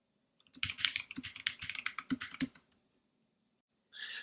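Quick bursts of keystrokes on a computer keyboard as a Linux command is typed, close and crisp with uneven clicks for about two seconds. A brief further clatter follows after a pause.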